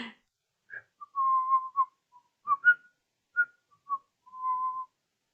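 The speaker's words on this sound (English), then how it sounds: "Who was whistling? that would have been me." A person whistles a short, halting tune alone in a quiet room, with clear separate notes and a few held tones broken by pauses.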